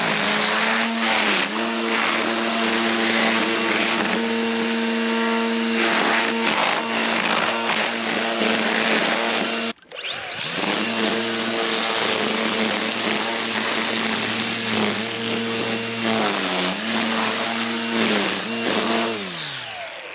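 A string trimmer with a Polycut spool head runs at high speed, a loud whining engine buzz with the line cutting. It dips briefly midway, then revs back up and keeps running steadily up close.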